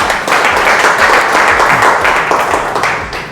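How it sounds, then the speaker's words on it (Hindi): A seated audience at a Renatus Nova wellness company talk claps loudly and steadily for the speaker, a thick wash of applause that holds for a few seconds before tapering slightly. "तो एक बार चाहेंगे सर के लिए जोरदार ताली होना चाहिए"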